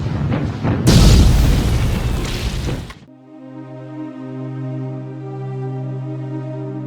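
Naval cannon fire from the Italian cruiser Eugenio di Savoia shelling Barcelona from the port, aimed at an aircraft-engine factory: a heavy, roaring blast lasting about two seconds, then cut off and followed by a steady droning tone.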